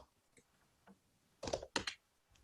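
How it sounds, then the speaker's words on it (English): A few quiet keystrokes on a computer keyboard, followed by two short louder clusters of clicks, sparse and close, with no talking. "Sorry about my typing away"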